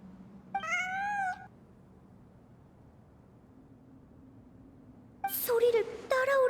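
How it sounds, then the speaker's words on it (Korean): A cat meows twice in a quiet, empty space with a low background hum, one clear mewl near the start and a longer, louder meow later. "환청이 아니야. 진짜 고양이야."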